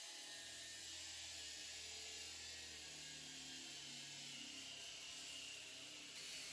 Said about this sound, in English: Grinding flat surface with orbital sander using 24 grit sandpaper.